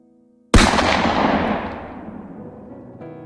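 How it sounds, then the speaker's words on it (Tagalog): A single loud gunshot cracks suddenly from near silence in a Tagalog audio drama, then rings out in a long reverberant tail that fills a room and fades over a few seconds. "Isang putok ng baril ang umalingaw-ngaw sa buong silid."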